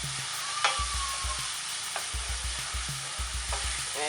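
Garlic sizzles steadily in hot oil in a pan, a constant crackling hiss with intermittent scraping knocks from stirring. No one speaks.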